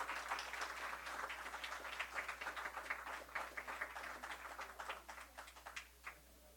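Audience applause at the close of a law course session honouring a teacher, a dense patter of hands that thins into scattered separate claps before fading, distant and fairly quiet.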